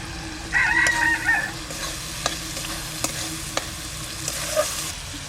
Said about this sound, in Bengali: এবার এর মধ্যে চিংড়ি মাছগুলো দিয়ে দেবো